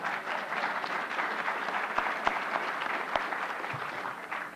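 Audience applause at a Truman Library Institute program on the Berlin Airlift, a steady wash of many hands clapping at moderate volume from across a hall, with a few sharper claps standing out.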